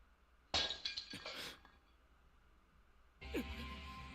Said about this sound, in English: the sharp sound of shattering pottery echoes throughout the prison